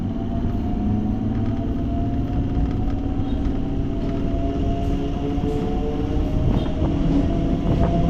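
A steady, loud rumble of a suburban train rolling into Hindu College railway station near Chennai, with clattering and a faint high whine building over several seconds.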